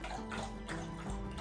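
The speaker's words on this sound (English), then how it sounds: "My dog is drinking water in the background." A dog laps water steadily in the background, a continuous wet splashing and lapping texture with faint rhythmic pulses, moderately quiet and heard on its own.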